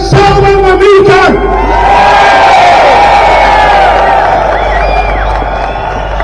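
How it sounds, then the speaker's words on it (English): A large rally crowd outdoors erupts in loud, sustained cheering and whooping, a dense roar that swells at once and holds near full volume throughout. "Let's have a massive cheer for Salwan Mamika."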